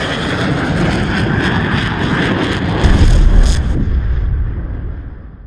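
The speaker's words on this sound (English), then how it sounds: "the jet engines roared again as he flew towards the portal" A jet engine roars in a steady, loud wash of broad rumble and hiss, swelling to a heavier blast midway before fading slightly, with no voices present.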